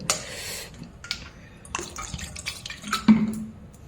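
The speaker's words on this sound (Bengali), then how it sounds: "আমি কি করব এখন ছানাটা একটু ধুইয়ে নেব একটু ধুয়ে নেব" Soft trickling and dripping of water over chhana (fresh cheese curds) while rinsing it for homemade Bengali rasgulla, with a few brief splashes and light handling sounds, close and fairly quiet.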